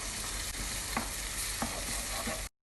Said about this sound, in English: and then stir well